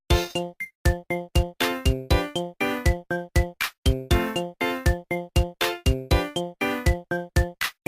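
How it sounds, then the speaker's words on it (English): Chiptune-style game music from Sonic Chronicles: The Dark Brotherhood, with short, bright, clipped synth chords bouncing in a quick, steady rhythm and separated by tiny gaps. The music plays alone with no voices. "Sonic Chronicles: The Dark Brotherhood has tracks that sound like this."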